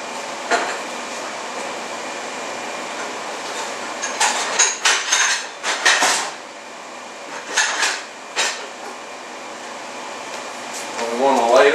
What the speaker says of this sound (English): And we want to ladle our hot preserves into our hot jars.